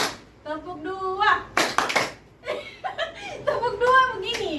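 A group claps in short counted patterns during an ice-breaking game in a group counseling session, bursts of hand claps between a woman's spoken instructions and some chuckling.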